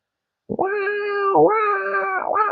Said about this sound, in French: Je suis sûr que tu as déjà entendu des chats en période de rut ou je sais pas quoi, c'est pareil, ils te font un vacarme.